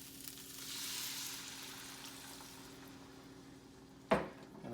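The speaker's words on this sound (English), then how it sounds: "And now I'm going to add my water." Water poured into a hot pan of toasted curried sundal, with a steady sizzle throughout and a sudden loud hiss and splash near the end as the water hits the hot surface.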